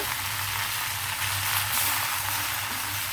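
Two bunches of gongura leaves sizzle steadily in a pan with a drop of oil, a continuous bright frying hiss with soft low bubbling, close and unbroken, no voices over it.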